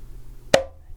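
A single hand strike on a conga drum playing a closed tone, a short, muted, close thump with a brief ringing pitch, set against quiet surroundings.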